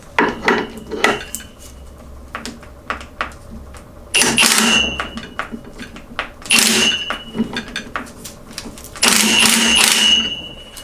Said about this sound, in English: let me just tighten this with the gun quickly.